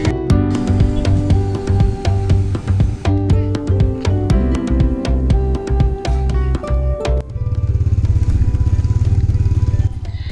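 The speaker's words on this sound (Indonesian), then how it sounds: "Kami menggunakan motor untuk keliling Alor." A motorcycle used for touring around Alor island runs close by, its engine pulsing beneath a layer of other sounds before settling into a louder, steady, rough drone.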